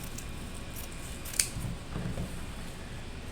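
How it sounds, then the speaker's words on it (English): Scissors snip through fabric being cut out for a cloth mask, faint and close in a quiet room, with one sharp click and a few soft rustling cuts. "let me finish cutting this out."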